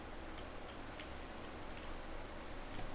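Rain falling in Minecraft during a dropper map, a continuous even hiss of rainfall with faint scattered drop ticks, holding steady throughout and heard alone.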